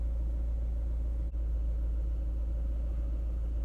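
A Subaru Impreza engine idles with a cylinder 3 misfire, a steady low rumble close by with one brief dropout near the middle.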